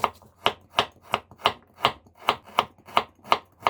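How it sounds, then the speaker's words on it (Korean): A knife chops an onion and a piece of ginger on a cutting board, with about a dozen evenly spaced, crisp strokes at a steady, brisk rhythm, close up and with no talking. "양파 1개와 생강 25g은 믹스기에 갈 거니까 마음이 가는 대로 썰어주시고"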